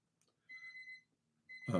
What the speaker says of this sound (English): My baby's alarm is going off.